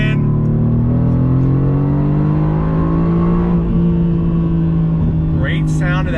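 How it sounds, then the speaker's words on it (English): A 2019 Mercedes-AMG GT R twin-turbo V8 in manual shift mode accelerates with a loud, steady, close engine drone whose pitch climbs gradually throughout, with rich layered tones. "Great sound of that V8, twin turbocharged."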